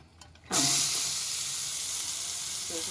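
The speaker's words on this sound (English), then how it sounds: "Sizzle, sizzle." Chopped onions hit hot bacon grease in a pan with a sudden loud sizzle that settles into a steady, close frying hiss and keeps going without a break.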